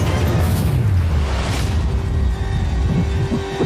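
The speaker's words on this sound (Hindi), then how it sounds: "पटाखे फूटने वाले हैं।" Firecrackers bursting in a loud, dense rumbling roar with whooshing bursts, steady and close throughout the short stretch, with no voices heard.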